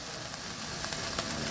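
Onions fry in oil for a mikke guisado dish, a close, continuous hiss and crackle of sizzling with no talk.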